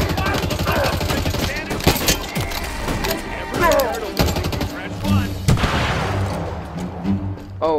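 Gunfire in the video game Halo Infinite, a mix of sharp shots and rattling bursts over dense game sound, with a voice talking at times.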